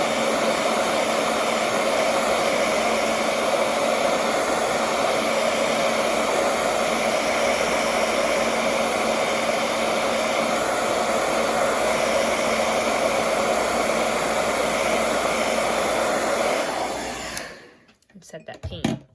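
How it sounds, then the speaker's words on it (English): A hair dryer blows a steady, loud, even whoosh over wet watercolor paint for about seventeen seconds, then cuts off abruptly near the end. "So we'll throw a little blow dryer on"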